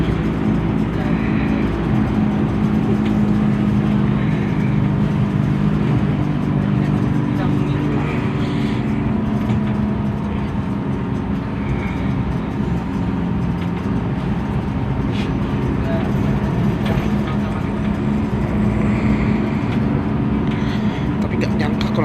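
Inside a crowded TransJakarta bus on a toll road: a constant loud engine and road rumble drones throughout. Passengers talk over the noise.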